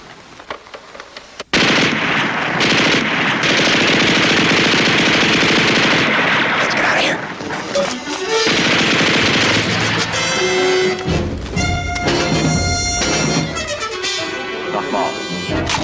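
Sustained machine gun fire erupts suddenly and loud after a quiet start, dense rapid bursts with overlapping shots and echoing clatter, thinning into scattered rounds toward the end in a war scene.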